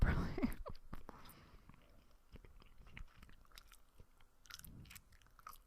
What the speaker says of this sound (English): I'm trying to chew with my gum with my mouth open a little